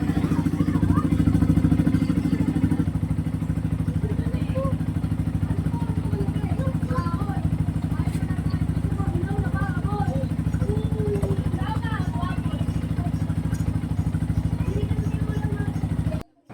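A Yamaha TFX 150 motorcycle engine idles steadily after a stator repair, a continuous mid-pitched running drone with some mechanical clatter. It is close and even throughout, with someone talking over it.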